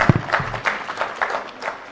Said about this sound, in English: A hand clap, please.